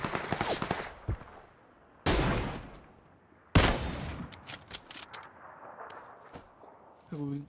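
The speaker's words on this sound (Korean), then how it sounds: "어, 나 쏜다." Sharp gunshot bursts in PlayerUnknown's Battlegrounds, a few loud cracks with ringing tails separated by quieter stretches, one rapid flurry of shots, with someone talking at times in between.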